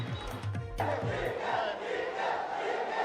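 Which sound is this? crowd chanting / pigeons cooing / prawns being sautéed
crowd chanting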